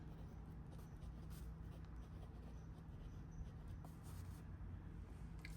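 A Monteverde Dakota fountain pen with a medium nib writes on paper, giving a steady, soft, continuous scratching that runs for several seconds over a low background hum, with no talking.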